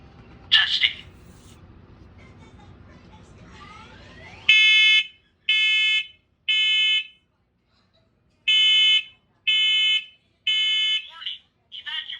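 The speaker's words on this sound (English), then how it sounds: "Today we'll be testing smoke alarms" Smoke alarm under test in a house, giving loud, near, high-pitched electronic beeps in two sets of three evenly spaced pulses, after a brief moment of background noise and a short voice.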